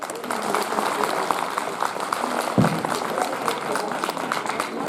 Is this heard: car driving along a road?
no